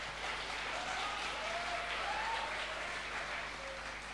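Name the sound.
audience clapping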